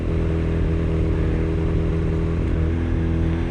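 A mule motorcycle idling on choke, a steady, even engine purr with a regular low throb, close and constant for the whole few seconds.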